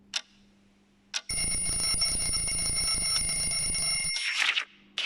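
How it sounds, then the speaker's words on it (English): An alarm clock rings with a continuous bright metallic bell for about three seconds, loud and close, after a couple of short clicks, then stops. "Alarm clock goes ding-ding."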